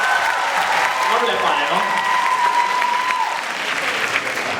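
Audience applause for a band at a 2016 stage event, a steady dense clapping that fills the whole stretch with no break, while a presenter talks over it.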